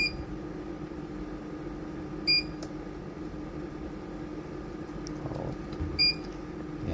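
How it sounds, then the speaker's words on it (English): An ESP32 touchscreen PID controller on a Waveshare 7-inch display gives short electronic beeps as it switches the pump from off into a mode, a few separated chirps over a steady motor hum. "You hear that beeping, so when you go from off to one of these modes, it's turning the pump on"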